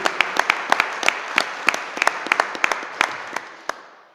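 Church congregation applauding, a fairly sparse round of individual claps with distinct sharp hits that thins out and dies away over a few seconds.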